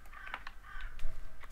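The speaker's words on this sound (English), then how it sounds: "That's a loud bird outside." A bird calls loudly in Minecraft in a few harsh, crow-like caws, with faint clicking and background noise around them.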